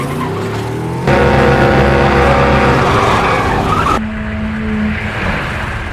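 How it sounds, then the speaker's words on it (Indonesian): A car floors the throttle and whips around, tires squealing loudly in a sustained, wavering screech over a roaring engine, then the squeal cuts off and a lower engine hum continues alone. "Ia menginjak pedal gasnya dalam-dalam dan segera berputar arah"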